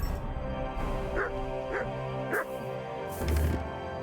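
A dog in a medieval role-playing game yips and whimpers in a short string of high, rising calls over steady background music and ambience.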